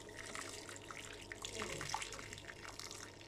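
Boiled water pours onto sugar and apricot paste in a kitchen bowl, a steady splashing, gurgling stream that runs continuously at close range for the whole stretch.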